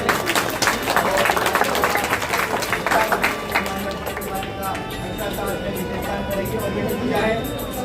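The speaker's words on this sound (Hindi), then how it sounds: "जोरदार ताली स्वागत करें" Clapping from a gathering at a government senior secondary school Independence Day event, welcoming a newly arrived teacher; dense, fairly close applause begins strongly and gradually thins, with voices talking underneath.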